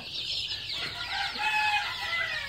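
A flock of young chickens about 35 days old, being vaccinated against fowl cholera, chirp and cheep continuously in dense overlapping peeping that stays close and fairly loud throughout.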